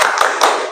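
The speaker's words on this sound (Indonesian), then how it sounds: "Tepuk semangat." Two quick sharp claps from a classroom of students standing together for a spirit clap, crisp and close, under a second in all.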